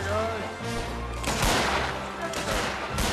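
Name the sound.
musket volley fired at historical reenactment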